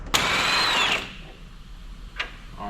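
A power tool whirs briefly as it spins a nut onto a front strut bolt of a 1998-2002 Toyota Corolla, one loud close burst followed by a short second blip.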